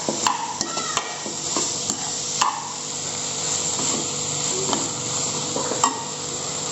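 Chopped banana mixture is stirred in a pan, giving light, irregular scraping and tapping of the utensil over a soft, steady sizzle, close up with no talking.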